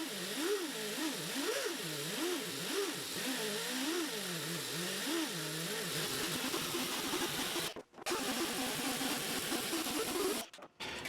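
A canvas buffing wheel polishing a guitar finish gives a steady motorized whir with a wavering, pulsing pitch as the workpiece is pressed in, running continuously at moderate loudness with two brief dropouts.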